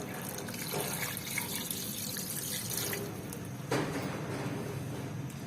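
About one and a half cups of water pour into a pot of chopped tomatoes and goat brain for cooking, a soft, steady splashing trickle that stays faint and continuous with no talking.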